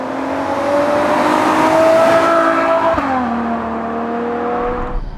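A Ferrari GTC4Lusso engine revs hard and climbs in pitch under acceleration, drops briefly at a gear change, then pulls again, loud and close with no talk.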